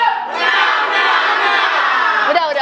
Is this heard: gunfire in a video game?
no